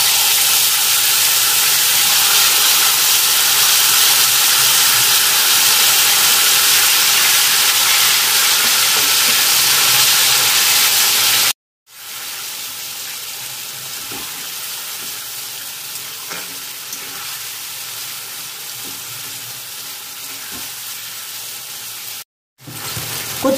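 Taro leaves dropped into a hot pan for a mishmash dish: loud, steady hissing sizzle close by, easing to a quieter continuous sizzle after a brief cut in the sound.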